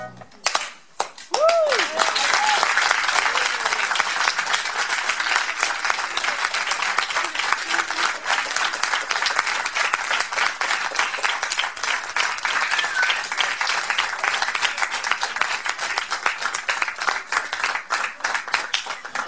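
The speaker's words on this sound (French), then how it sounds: "Pour faire entendre ses applaudissements jusque dans le Val d'Oise." A theatre audience breaks into sustained applause after a brief voice at the start, the dense clapping staying loud and even for a long stretch with scattered sharper claps.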